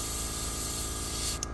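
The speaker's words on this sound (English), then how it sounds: "Then I'm just spraying onto the plastic" Spray paint hisses onto plastic in one continuous, close burst, steady and broadband, briefly cutting off near the end with no talk.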